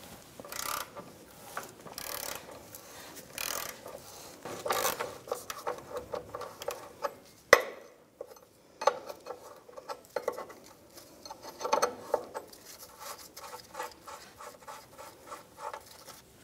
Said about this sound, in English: So to remove this bolt, it's 18 millimeter socket and a 21 millimeter wrench on the other side.